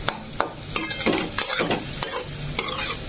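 Sabudana khichdi with chillies sizzles in hot oil in a pan while a spoon stirs and scrapes it in repeated strokes, close and loud, with steady frying hiss underneath and no voices.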